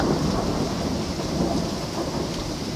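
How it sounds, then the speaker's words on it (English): Heavy rain pours steadily with rumbling thunder, a loud, dense and continuous wash of sound with no voices. "It's raining pretty hard and it is thundering."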